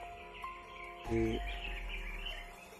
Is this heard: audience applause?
no